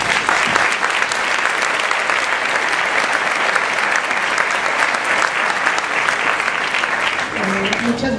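Loud, sustained audience applause at a political and journalism panel discussion, dense clapping from a full room that continues evenly, with a voice starting to speak faintly right at the end.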